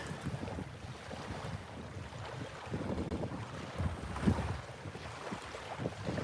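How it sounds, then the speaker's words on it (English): Strong gusty wind buffets the microphone on a seaside beach near a marina, a continuous low rumbling roar with surges and no talking. "Fairly hefty wind coming in."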